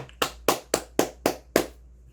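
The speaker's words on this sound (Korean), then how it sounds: "아이고 또 한 번 더 박수 보내" Six crisp hand claps in a slow, even rhythm, close and distinct, from a single person clapping alone in a quiet room.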